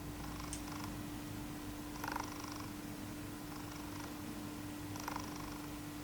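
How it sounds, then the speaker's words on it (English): A very faint, steady low hum runs throughout, with soft intermittent whirring pulses every second or two from a Viltrox 35mm f1.8 lens autofocus motor on a Sony A7III, picked up by the built-in microphone. "the Viltrox gives off a very subtle purring noise"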